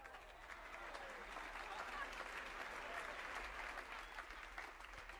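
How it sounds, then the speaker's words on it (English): Steady applause from a radio show audience, continuous and moderately distant, holding an even level for several seconds without breaks. "Let's give a big round of applause to Bobby Barrett,"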